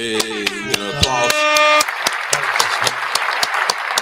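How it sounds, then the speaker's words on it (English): Scattered claps and light applause for a podcast guest arriving in a basement studio, sharp irregular hits of moderate loudness mixed with a short musical tone at the start. "Hey, applause."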